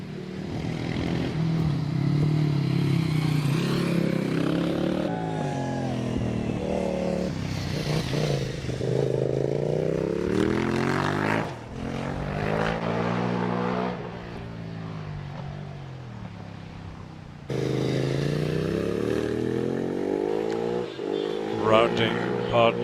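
Racing motorbikes climb the Prescott hill course, engines rising in pitch through the gears with brief drops at each change, loud and continuous over a commentator talking throughout.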